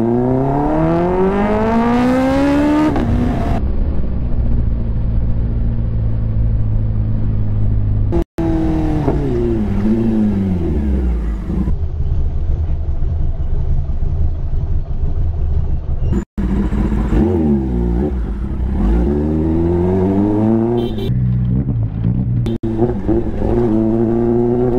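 A Kawasaki ZX-10R sportbike running low on fuel revs hard several times in a pickup test, its engine note climbing and falling in loud, close sweeps with brief gaps between bursts.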